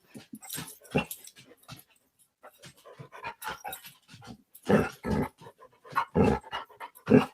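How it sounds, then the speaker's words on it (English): Dog panting heavily and whimpering up close, with rapid breathy puffs broken by louder whiny yelps in uneven bursts. "Apparently, my dog doesn't know the meaning of silence."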